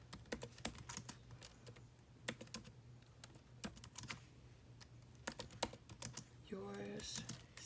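An Instagram caption typed on a computer keyboard, with quick irregular key clicks and occasional louder taps over a low steady hum, close and fairly quiet.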